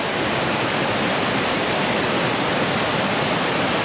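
Water rushes steadily down a stream from a waterfall along a forest trail near Viana do Castelo, Portugal, a dense, continuous roar that stays loud and close throughout with no voices.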